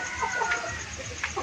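A mother hen gives short, quiet clucks in a farmyard, a few soft calls spread across a brief moment with faint background noise.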